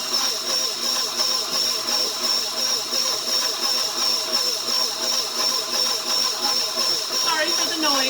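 A stand mixer with the cookie attachment churns pizza dough of flour and olive oil, giving a steady, loud motor whir with a rhythmic thumping beat that runs throughout.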